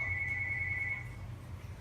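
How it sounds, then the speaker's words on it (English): In a home, a telephone rings in the background with one steady electronic trill of about a second that then stops, quiet and distant over a low hum, with no one talking. "My apologies for the phone ringing in the background."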